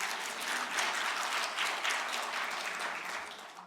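An audience at a church symposium claps to welcome a speaker, a steady wash of applause that holds evenly and tapers slightly at the close.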